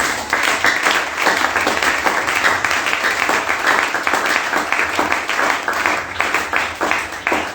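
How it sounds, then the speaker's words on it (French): A church congregation at a Sunday service applauds together, a dense, loud and sustained wash of clapping from many hands that carries on evenly and then tapers slightly at the end. "Est-ce que tu peux acclamer pour Dieu?"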